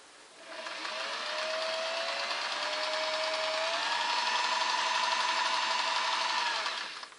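A Singer Model 404 sewing machine stitches steadily at about 10 stitches per inch, a continuous close mechanical whir and rattle that holds for several seconds and then stops.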